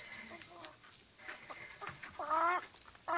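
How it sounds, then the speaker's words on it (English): A hen clucks in a radio drama sound effect, with a run of short, close clucks that build into louder, rapid bursts near the end. "She's doing practically all the things a chicken can do."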